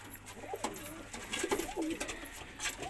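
An Indian fantail pigeon coos in a breeding setup, several soft low throaty coos in a row at close range over faint background noise.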